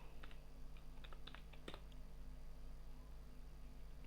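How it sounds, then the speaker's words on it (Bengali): Quick burst of keystrokes on a computer keyboard as a word is typed into a browser search bar, a handful of light clicks in the first two seconds over a low steady hum, then quiet. "ব্রাউজারে এখানে সার্চ বারে লিখব ক্যানভা"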